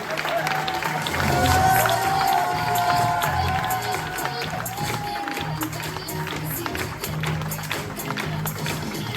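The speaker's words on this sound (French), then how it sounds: "Je vous demande d'applaudir très très fort le concepteur de ce spectacle, Ismaël." A theatre audience at a Corsican stage show applauds loudly and cheers for the show's creator, a thick continuous roar of clapping with shouts and whoops layered through it.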